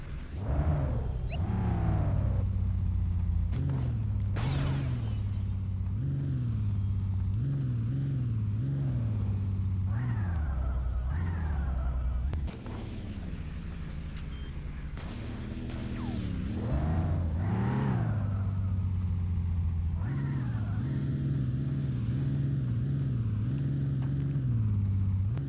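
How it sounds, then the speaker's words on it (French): Car in the Linux PC video game Auto Fire picking up speed and sliding into a drift, a loud, steady engine drone with rising and falling revs and whooshing sweeps, continuous throughout with no talk. "je prends juste de la vitesse pour faire un dérapage"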